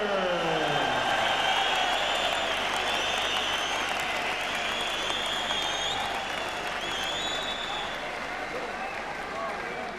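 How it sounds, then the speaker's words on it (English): Boxing arena crowd applauding and cheering a newly crowned WBA International Super Featherweight champion after a technical knockout, a dense, steady roar of clapping and voices filling the whole stretch at close, loud level. "While Arthur takes his well-deserved applause"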